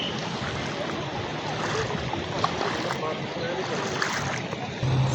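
Floodwater rushes fast through a Lahore street after heavy rain, a dense, steady roar of churning water with some wind buffeting, close and loud throughout.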